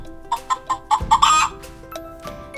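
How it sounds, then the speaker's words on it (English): A farm hen clucks nearby in a quick run of short, evenly spaced clucks that builds into a louder, longer squawking call, then trails off into quieter clucking. "Let's listen to the sound that the hen makes."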